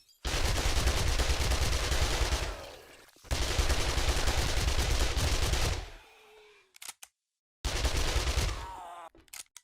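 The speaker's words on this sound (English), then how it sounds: "You just have to mag dump them." Rapid automatic gunfire from a magazine being emptied in 7 Days To Die, fired in three sustained loud bursts broken by short silences, the last burst cut off abruptly.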